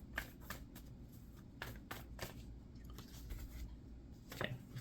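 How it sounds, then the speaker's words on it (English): Tarot cards being shuffled and drawn, soft papery riffles and slaps coming in irregular bursts up close against a faint steady background hiss. "I'm going to draw some more cards."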